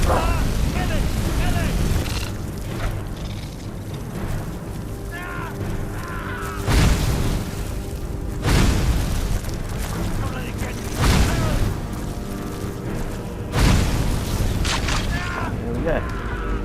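Flame spell explosions in Skyrim, several loud deep booms and fiery bursts rolling one after another over a dense, continuous rumble of combat and music, with a voice talking throughout.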